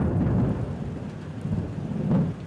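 Deep thunder rumbles steadily in a storm, with rain hissing beneath it and swelling louder near the end, with no voices.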